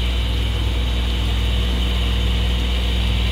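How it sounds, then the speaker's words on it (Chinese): A large submersible pump motor runs in the filter of a big roadside fish tank, making a steady, unchanging low hum with a faint buzzing overtone close by, and no voices. "用大的潜水式马达"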